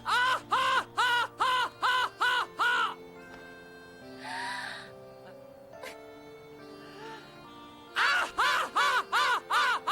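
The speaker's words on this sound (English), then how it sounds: "It does sound like a crow just yelling at you." Harsh, rhythmic crow-like squawks from a yelling creature in Final Fantasy X, a burst of about seven loud calls at the start and another at the end, with quieter game music and sounds in between.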